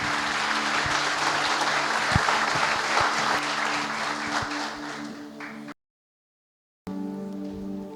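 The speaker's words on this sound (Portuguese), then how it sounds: "Aplaudir bem forte o Senhor." A church congregation gives loud, sustained applause for nearly six seconds over a steady musical tone, then falls silent briefly before the music returns alone.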